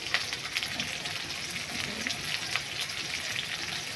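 Salted onions frying in a pan for mutton kosha, a steady crackling sizzle with light popping, close and even throughout.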